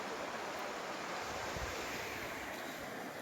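River water rushes while people cross a river near Kunda waterfall in the Aravalli hills, a dense, steady broadband wash with wind buffeting the microphone, fairly quiet and continuous, with no talk.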